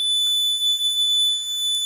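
An ATSE fire alarm panel sounds a steady, piercing high-pitched electronic tone during a zone 3 alarm test, holding continuously and loudly throughout with no talking.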